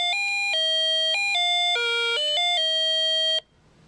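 A quartz wall clock's bright electronic chime plays a short melody of clear, sustained tones, loud and close, then stops abruptly, leaving a faint hum.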